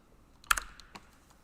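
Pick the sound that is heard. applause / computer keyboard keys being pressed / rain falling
computer keyboard keys being pressed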